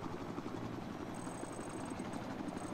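Helicopter in the video game Battlefield 4, a constant rotor thump and engine drone at moderate level, steady throughout with a thin high whine joining partway through.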